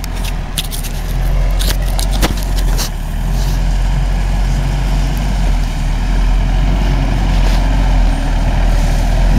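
An off-road vehicle labors up the St. Kirik mountain trail with a loud, steady engine roar, and sharp clicks and scrapes break through it near the start.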